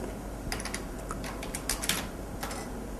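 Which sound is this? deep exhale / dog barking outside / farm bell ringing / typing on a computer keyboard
typing on a computer keyboard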